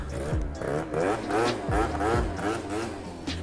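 A 50cc moped engine left idling to warm up, a steady close mid-pitched putter with a few brief rises in revs over about three seconds.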